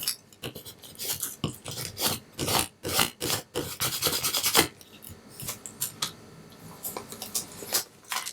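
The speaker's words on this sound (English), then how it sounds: "I'm just going to rub it down, burnish it down" Vinyl is rubbed and burnished down onto a coaster in quick repeated strokes, close and fairly loud scraping rasps coming in bursts with short pauses between.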